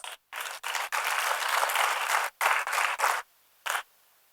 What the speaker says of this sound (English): Let us welcome him with a huge round of applause.